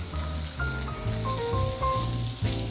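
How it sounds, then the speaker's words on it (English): Steady crackling sizzle of hot oil in a pot as shallots and serrano peppers go in, with a low hum and faint clinks underneath, no talking. "You hear a sizzle, you see it pop."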